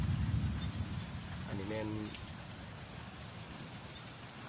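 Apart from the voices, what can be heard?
rain falling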